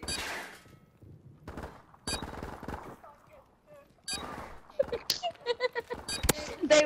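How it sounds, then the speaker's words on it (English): Automatic gunfire in the video game Call of Duty: Modern Warfare Remastered: several sharp, loud bursts of rapid shots separated by short quieter gaps, with denser, crackling fire toward the end. "They were shooting at me!"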